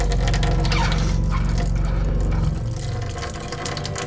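Water running from a faucet in a Jayco 224 BH travel trailer during winterizing: a steady close splashing flow that cuts off partway, leaving a softer trickle and faint knocks afterward.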